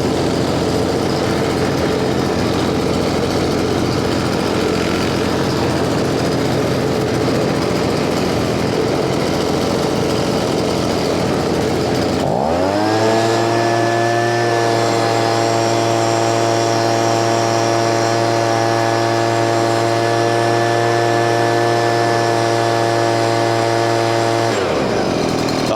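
A Stihl BG55 leaf blower with a previously plugged muffler gives a loud, rough, noisy engine roar for about half the span, then settles into a steady, loud tonal drone that holds before cutting off near the end.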